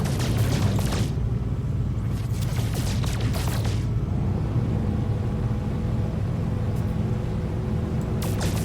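An asteroid being blasted apart in No Man's Sky, a steady close rumbling roar with several sharp crackling bursts of breaking rock over continuous low engine-like drone, no voices.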